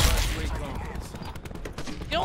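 Video game gunfire, rapid overlapping shots in a busy firefight, loud and close with a voice talking over it.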